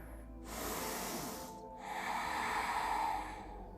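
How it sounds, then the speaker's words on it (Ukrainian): Someone takes deep, full breaths during a yoga session: two long, airy inhales close to the microphone, separated by a short pause, with no speech. "глибокий повний вдих"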